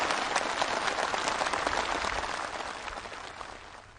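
Enthusiastic applause from a crowd of participants at an outdoor-style flag presentation for a commemorative march troupe. The clapping is dense and vigorous at first, then gradually fades toward the end.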